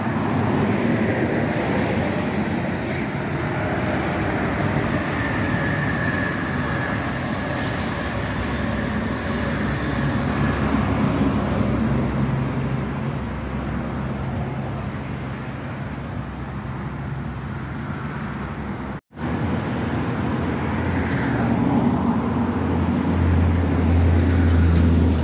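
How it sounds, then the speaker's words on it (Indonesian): Whoosh high-speed train rushing past on the elevated KCJB track near Bandung, a steady broadband roar holding for the whole stretch, loud and close, with no talk. "Kereta cepat lewat Menger"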